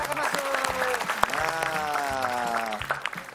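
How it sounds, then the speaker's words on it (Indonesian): Applause from a small audience as a team walks in at an indoor event, clapping steady and fairly close, with a voice talking over it throughout. "Tepuk tangan dong, tepuk tangan dong."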